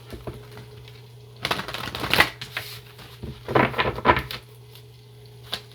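Mood emotion cards being shuffled by hand in two close bursts of rapid riffling flutter, with light taps and handling between them in a quiet room.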